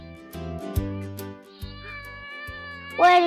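A cat on a farmhouse, peeking out of a window, gives a few clear meows, close and prominent over soft background music, with a louder drawn-out meow at the end.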